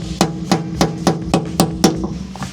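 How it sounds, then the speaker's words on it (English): A socket is hammered onto a crusted 10mm bolt during a GWM Cannon panel install: seven sharp metallic whacks at an even, roughly half-second rhythm, loud and close with nothing else heard. "we normally whack a socket on it just so you can get it off because there's a build up here"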